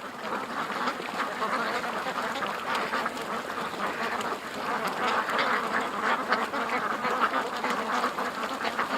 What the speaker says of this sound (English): those ducks were just freaking out down there